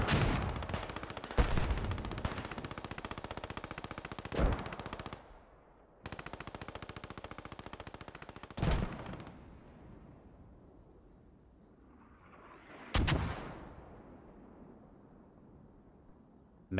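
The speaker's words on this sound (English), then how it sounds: "He gets shot at." Sustained machine-gun bursts rattle in long rapid strings, broken by sharp single shots and a couple of heavy blasts, in the World War II shooter Post Scriptum, loud at first and then trailing off into quieter gaps.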